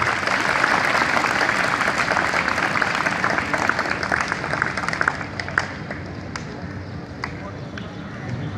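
Loud, dense applause rises from a crowd at a flag-raising ceremony at Government MC High School in Okara. It thins out over several seconds into scattered individual claps.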